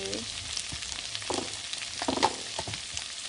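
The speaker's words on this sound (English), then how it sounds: "I'm going to leave that to cook a bit, let the onions cook." Onions and mixed vegetables fry in a pan during meal prep with a soft continuous sizzle, broken by a few faint stirring taps and scrapes, heard close with no talking.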